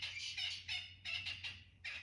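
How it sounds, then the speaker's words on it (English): Birds call outdoors in a busy chorus of repeated high chirps and warbles in short overlapping bursts, fairly close, over a steady low hum, with no voices. "Can you hear the birds?"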